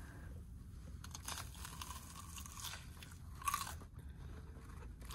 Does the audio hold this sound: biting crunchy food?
yes